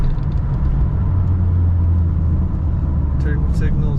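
A 1934 Buick Victoria street rod cruises down the road at about 1500 RPM, giving a steady low engine rumble heard from inside the car, with a short clink near the end.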